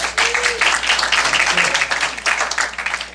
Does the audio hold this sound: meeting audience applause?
yes